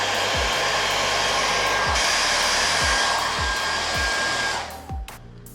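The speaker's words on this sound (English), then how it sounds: "I'm gonna give the hair blow dryer treatment just a little bit." Hair dryer blowing steadily and loudly on a Bosch CX 550 part during an error-code repair, a continuous broadband rush with a few soft thumps, cutting off near the end.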